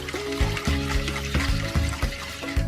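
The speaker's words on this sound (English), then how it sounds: "pour the milk mixture into the yeast mixture" A milk mixture is poured into a yeast mixture for homemade Danish bread, giving a steady close liquid trickle and splash with small rhythmic sloshing knocks throughout.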